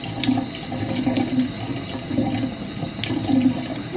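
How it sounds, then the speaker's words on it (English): Warm tap water runs steadily while minky fabric is rinsed under it, a continuous close splashing stream with soft uneven surges. "I'm going to give it a good rinse."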